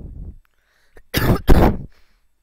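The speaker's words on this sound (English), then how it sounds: "Sorry guys, bad cough." A person coughs twice in harsh, close bursts after a brief throat rumble, then quiet follows.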